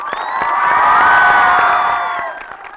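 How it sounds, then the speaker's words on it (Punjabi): An audience at a college event in Mukandpur bursts into loud cheering and clapping that swells to a peak and then fades, with whoops rising above the crowd. "ਜ਼ੋਰਦਾਰ ਤਾੜੀਆਂ"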